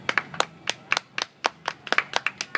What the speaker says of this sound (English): The clapping's getting weaker.